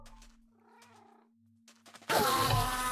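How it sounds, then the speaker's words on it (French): Cat sounds from a survival video game, with short soft meows and purring over a low steady hum, then a sudden loud burst of noisy game sound takes over for the last second. "attention que je tue pas le chat"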